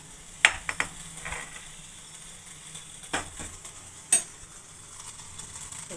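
Spices for tempering crackle in hot oil in a small pan, a faint, soft sizzle punctuated by a few sharp, scattered metallic clinks from a utensil.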